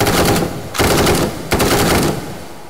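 Full-automatic gunfire from a submachine gun in the VR shooter H3VR, three loud rattling bursts of fast shots separated by brief gaps, close and alone.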